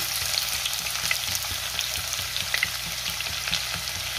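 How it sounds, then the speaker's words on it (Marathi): Garlic and onion frying in hot oil with crackling cumin and mustard seeds for a potato bhaji, a loud steady sizzle with sharp popping crackles throughout. "जिरे मोहरी तडतडली, त्यामध्ये लसूण घालूया। मी लसूण टेचून घातलाय।"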